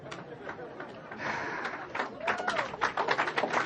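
Applause from an audience at a recovery meeting talk in a club hall, scattered claps building into a fuller patter with murmuring chatter and a few chuckles mixed in.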